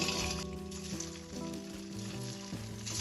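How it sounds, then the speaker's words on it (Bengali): Suji aloo tikki patties sizzle steadily in hot oil in a pan, a close, continuous crackling fry with faint stirring or turning sounds. "এবার আমি এগুলো তেল থেকে তুলে নেব ওই তেলের বাকি যেগুলো আছে সেগুলো ভেজে নেব"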